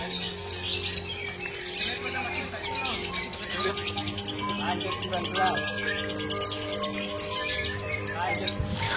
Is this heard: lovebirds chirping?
yes